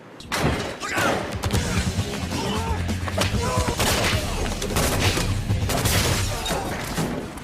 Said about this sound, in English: Cleric, what's happening? We heard gunshots.